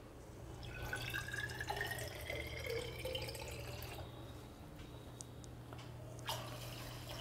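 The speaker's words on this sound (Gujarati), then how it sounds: "હવે આપણે પાણી એડ કરી દેશું." Water is poured into khichdi made with toor dal in a clay pot, a faint trickling and dripping fill that runs quietly for several seconds without talk.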